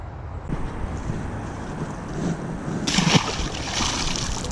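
Catfish of about eight pounds splashing in the Potomac River in late winter, a sudden sharp splash rising out of steady wind and lapping water, fairly close and loud, followed by continued rushing water noise.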